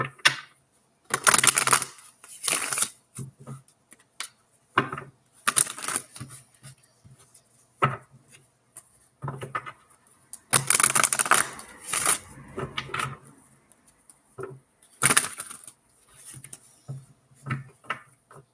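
Repeated bursts of riffling paper cards, several quick shuffles with short pauses between them, close and fairly loud.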